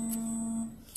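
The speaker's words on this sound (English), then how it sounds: "Sorry, somebody's calling my phone." A phone rings with an incoming call, a steady electronic tone sounding continuously for most of a second before cutting off, close and fairly loud, with no talk over it.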